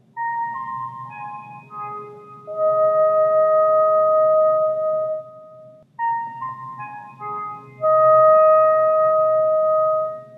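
Electronic memory-game tones from a Simon toy, a sequence of pure sustained beeps stepping between pitches in two similar phrases, clear and alone with a short gap between.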